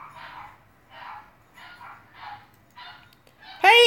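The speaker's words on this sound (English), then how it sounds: "They got a new dog. It's a female pit bull. Can you hear him?" A female pit bull barks in a series of muffled, somewhat distant woofs spaced about half a second to a second apart, followed by a sudden louder burst of close sound at the end.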